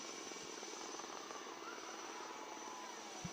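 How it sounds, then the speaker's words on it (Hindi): An Indian Navy Chetak and ALH Mark III helicopter fly a search and rescue demonstration at a Navy Day event in Visakhapatnam, heard as a faint, steady rotor and engine drone. "are the indigenous helicopters Chetak and an ALH helicopter to demonstrate the search and rescue demo"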